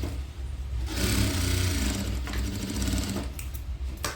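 A sewing machine runs continuously while stitching the side seams of fabric for a frilled baby skirt, giving a close, steady whirring drone with a fast mechanical chatter that speeds up slightly in the middle.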